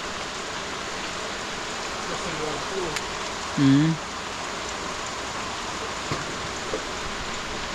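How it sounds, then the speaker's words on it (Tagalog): Rain falls outdoors in a steady, soft wash of hiss, with a few brief spoken words partway through. "umuulan pero okay lang"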